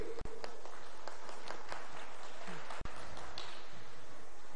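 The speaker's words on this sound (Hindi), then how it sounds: "तालियां बजती रहनी चाहिए।" Guests at a panel discussion on the 2024 Lok Sabha elections are honored with mementos as an audience claps steadily, moderately distant, with two short dropouts in the sound.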